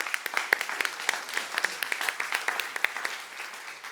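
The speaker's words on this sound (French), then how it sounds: "On peut applaudir." An audience at the opening of a festival applauds, with sharp individual claps standing out from a moderate, steady round of clapping.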